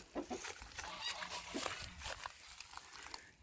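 Farmyard geese honk in a ragged series of repeated calls at moderate distance, mixed with clucking chickens and outdoor background.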